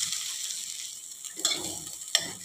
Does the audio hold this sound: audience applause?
no